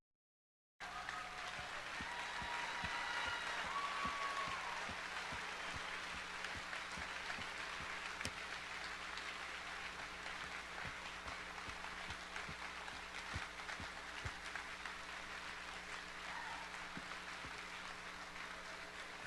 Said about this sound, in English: You can stand and give an applause.